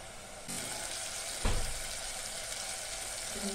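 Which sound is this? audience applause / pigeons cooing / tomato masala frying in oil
tomato masala frying in oil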